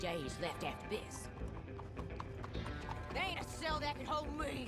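Horse hooves clip-clop steadily in the Red Dead Online video game. The rhythmic hoofbeats run throughout, under someone talking and in-game music or ambience.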